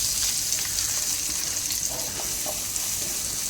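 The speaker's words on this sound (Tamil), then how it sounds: "அந்த எண்ணெயில் வெங்காயம் போட்டுக்கணும்." Onions frying in oil drained from tandoori chicken, a dense, steady sizzle close by with faint stirring movement, no talking.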